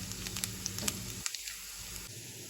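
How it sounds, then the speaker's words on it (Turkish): Onions fry in a pan on a stovetop with a dense, steady sizzle and a few sharp pops, close and without any talking. "Soğanlarımızı tamamen kavruluncaya kadar ocakta tutuyoruz."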